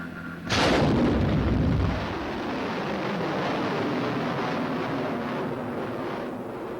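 A guided missile launches at White Sands Proving Ground with a sudden loud roaring blast that holds for over a second, then settles into a long, sustained rumbling roar that carries on steadily.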